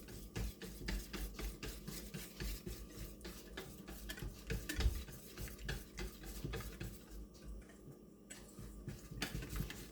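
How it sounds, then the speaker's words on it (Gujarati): Gram flour batter with red chilli, cumin and ginger-chilli paste being mixed for besan pudla, a steady run of rapid scraping, stirring strokes close up, continuous throughout with no talk. "એને હવે આપણે મિક્સ કરી દઈએ"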